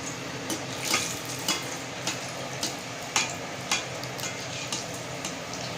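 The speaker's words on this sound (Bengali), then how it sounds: "একে একে আমি এইভাবে সব পোয়া পিঠেগুলো ভেজে নেব" Mango and coconut poa pitha fry in hot oil with a continuous crackling sizzle, close and steady, punctuated by regular light ticks and clinks of a utensil roughly every half second, with no voices.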